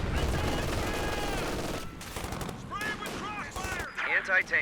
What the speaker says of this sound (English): Anti-tank gun.